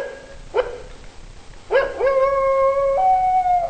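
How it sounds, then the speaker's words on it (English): A dingo howls in a wildlife park exhibit at Cleland Wildlife Park, Mt Lofty. A short yelp comes first, then a long, clear, close howl rises, holds steady and drops to a slightly lower pitch. "A howl used for long distance communication to attract pack members."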